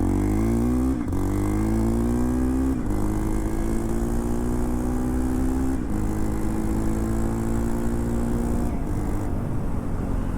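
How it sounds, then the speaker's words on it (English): A Hero Impulse off-road motorcycle with a 240cc big-bore build drones steadily on the road, with a few brief dips and gear shifts as the pitch climbs and settles again. "I'm not doing justice to this motorcycle while riding it on the road"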